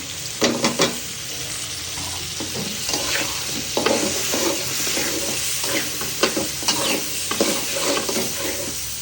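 Potato pieces go into a pan of fried shrimp and crackle in hot oil, with a continuous sizzle punctuated by repeated scraping and clacking stirs throughout, close and fairly loud, no talking.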